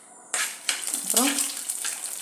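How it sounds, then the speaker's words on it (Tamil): Onions drop into hot oil with spices in a pan and start to sauté, bursting into a sudden loud sizzle that continues as a close, steady crackle with a light clink of a utensil. "வெங்காயத்தை போட்டு வதக்கிக்கணும்."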